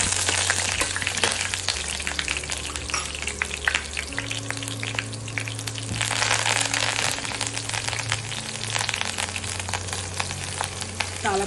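Onions dropped into hot oil for a dal tempering sizzle and fry steadily, a loud continuous crackle with no talking.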